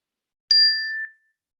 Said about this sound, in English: I will invite the bell to get us started